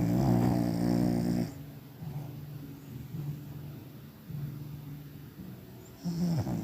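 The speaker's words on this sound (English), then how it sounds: "She's gone to sleep and snoring." A small dog asleep and snoring, with slow rhythmic snores rising and falling, close and fairly faint, several breaths in a row with a louder snort at the start and end.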